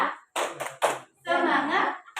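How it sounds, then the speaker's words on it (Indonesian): A group does a rhythmic spirit clap at a school positive-culture activity, quick hand claps mixed with loud chanted voices close by. "Tepuk semangat"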